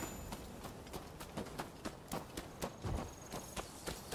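Horse hooves clip-clopping in the video game Rise of the Ronin, a steady rhythmic walking gait of sharp, evenly spaced hoof strikes heard alone.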